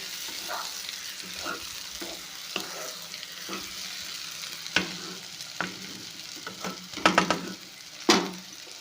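Brinjal (eggplant) frying in oil for a North Karnataka stuffed ennegayi curry: steady close sizzle with repeated stirring scrapes and a few sharper clatters of the utensil against the pan near the end, no voices.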